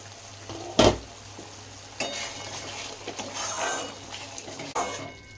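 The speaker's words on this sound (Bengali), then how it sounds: "এটাও স্লো ফ্লেমে একটু ভালো করে মশলাটা কষাতে দেব।" Masala slowly sautéing on a low flame for chicken malai kofta curry makes a soft continuous fry under repeated stirring scrapes, with a couple of sharp clanks of a spoon against the pot.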